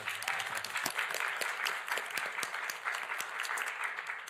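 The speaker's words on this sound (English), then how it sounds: "wait, that's an applause line." Applause fills the House chamber, a dense steady patter of many hands clapping continuously throughout, fairly loud and close, with no talk over it.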